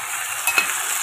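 Corned beef and fried potatoes stirred in a pan, a bright continuous sizzle with a couple of quick scraping strokes, close and loud.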